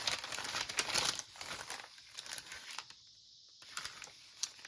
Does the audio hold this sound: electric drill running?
no